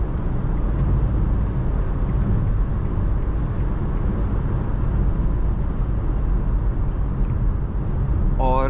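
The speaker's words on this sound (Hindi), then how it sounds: "और ऐसे बाहर से जो है वो विंड ब्लास्ट जो है वो फील होता है।" Citroen C3 Aircross automatic (2024) cruising on a highway at 120 km/h around 2200 rpm, with a steady, dense rush of wind and road noise filling the cabin throughout, low engine drone beneath and a brief tonal blip near the end.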